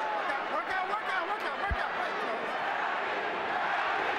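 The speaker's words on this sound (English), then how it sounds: "Manny, Manny, the crowd chant." A boxing arena crowd chants a fighter's name during the Manny Pacquiao versus Erik Morales bout, a loud, washy roar of voices that fills the space with only faint thuds above it.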